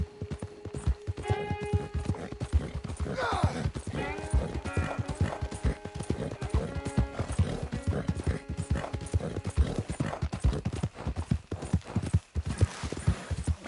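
Horse hooves clip-clop in a steady trotting rhythm in the Western video game Red Dead Redemption 2, loud and continuous, with tack rattling and a brief whinny-like tone.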